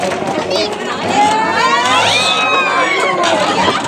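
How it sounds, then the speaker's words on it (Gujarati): Audience at a Bhagavat katha, with crowd noise and cheering sustained throughout, many voices shouting and hollering together rather than distinct clapping, loud and close. "તાળી વધાવીએ।"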